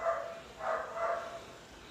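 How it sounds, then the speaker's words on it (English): Dogs bark outdoors in the distance, three soft, muffled barks spaced about half a second apart against faint background noise. "So there are some construction and dogs at the background"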